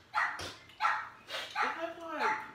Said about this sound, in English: If y'all hear a dog bark, that's Mister.